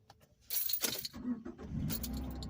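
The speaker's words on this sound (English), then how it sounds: "If it's in neutral, which is what this is, you still have to push the clutch pedal in to start it." A manual-transmission car sitting in neutral is started with the key, giving a short jangle of keys and then the engine catching and settling into a steady low idle, close and fairly loud, with no talk.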